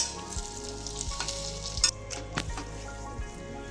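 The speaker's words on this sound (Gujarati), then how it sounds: "એ જ ઘીમાં આપણે આ ખજૂરને એડ કરી દેવાનું છે અને સતત હલાવતા રહેવાનું છે" Dates roasting in ghee in a pan while being stirred, a steady soft sizzle with a few faint scraping clicks, close and fairly quiet, no voices.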